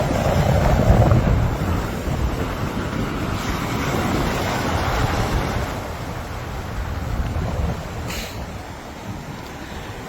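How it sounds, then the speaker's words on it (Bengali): Atlantic Ocean waves break and wash up on a Florida beach in a continuous loud roar of surf, heavily buffeted by wind rumbling on the microphone, with surges that swell and ease over several seconds and no voices. "কয়েকটা সেকেন্ড ঢেউগুলা শোনাই আপনাদের, শুধুই ঢেউ।"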